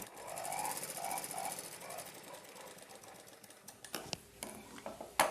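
Sewing machine running steadily while double-stitching a blouse, a fast mechanical whir with stitching clatter, then stopping and giving way to scattered clicks and handling sounds of the fabric.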